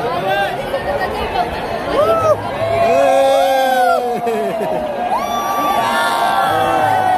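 A dense crowd lining a Mumbai street for a champions' victory parade shouts, whoops and cheers continuously, many voices overlapping in a loud, sustained roar with individual high yells rising above it.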